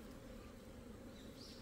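Asian giant hornets fly around a beehive, giving a faint, continuous buzzing drone of wings with a slightly higher whine joining near the end.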